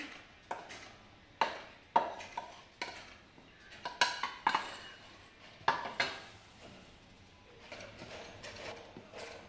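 Eggless zebra cake batter of flour and milk gets stirred in a bowl, with a steady series of light clinks and taps of a utensil against the bowl, quiet and close, with no voices.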